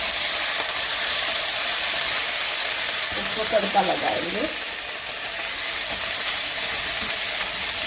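Garlic, ginger paste and red chili sizzle in hot oil for a tadka, a loud continuous frying hiss with a brief stirring burst in the middle, while someone speaks over it.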